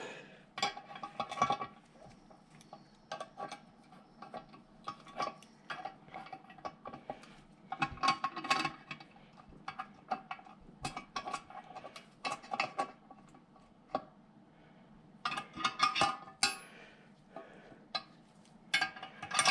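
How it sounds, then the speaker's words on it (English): Metal parts of a blind bearing puller clink and tick as the tool is assembled and set up, a steady run of small close taps and rattles with no talking. "blind bearing tool that my dad told me about, and I'm gonna go ahead and get it set up real quick"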